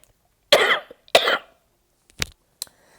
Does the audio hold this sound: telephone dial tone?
no